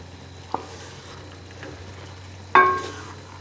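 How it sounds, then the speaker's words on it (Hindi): Chana dal and mash dal are stirred together in a pan with a low simmering sizzle, a sharp scrape early on and a louder clatter of the spoon near the end, with no voices. "इन दोनों दालों को अच्छी तरह मिक्स कर लेते हैं।"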